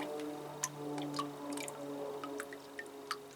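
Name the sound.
water draining and dripping from a watered plant pot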